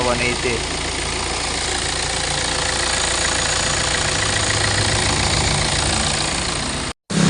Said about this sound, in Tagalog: ito yung pompa ng compressor ng mga boss